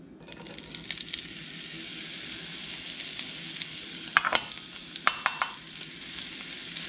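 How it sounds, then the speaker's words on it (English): Onions hit hot olive oil in a skillet and sizzle steadily, a close, even hiss with sharper spoon scrapes and clicks bunching toward the end; nobody speaks. "I've got my olive oil in the skillet heating up. Now I'm going to add my onions."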